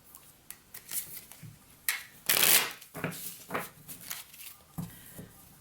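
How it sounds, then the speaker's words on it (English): Tarot cards are shuffled by hand in a series of soft riffling bursts and taps, one louder riffle standing out midway, close and quiet with no talk. "I will shuffle one more time."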